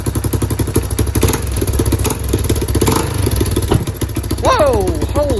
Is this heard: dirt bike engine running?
yes